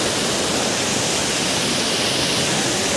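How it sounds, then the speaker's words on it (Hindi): Forceful water rushes steadily in a Bageshwar, Uttarakhand hillside stream, a loud, continuous broadband roar like a small waterfall with no voices over it. "अभी एकदम फोर्स में जा रहा है पानी।"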